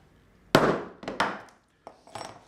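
Several sharp, close metallic taps of a hammer striking a leather stitching tool while making a briefcase, irregularly spaced, with brief ringing decay after each blow.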